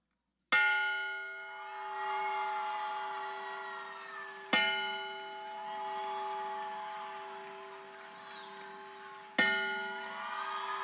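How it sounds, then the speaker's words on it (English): The Maryville bell rung at an outdoor graduation ceremony, three loud clear strikes spaced about four seconds apart, each ringing on in a long sustained tone that slowly fades, with a soft crowd murmur between. "has been selected for this honor to ring the Maryville bell today"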